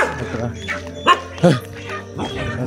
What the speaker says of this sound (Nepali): कुकुरले यहाँ हमला गर्दैछ मलाई